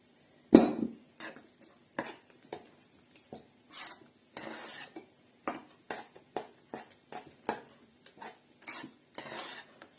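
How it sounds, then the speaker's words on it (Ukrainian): A spoon scrapes and clinks against a bowl, stirring two eggs and dry garlic into a liver cake mixture in a quick, irregular rhythm of short strokes, close up, with no talking. "розмішуємо гарно ложкою"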